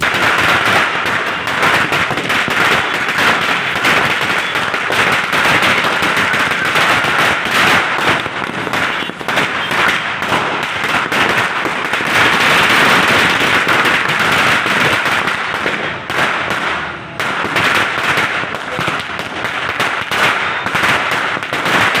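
Firecrackers set off to welcome guests at a hawkers' union branch opening in Panchavati, a loud, dense string of rapid crackling bursts that rattles on without a break.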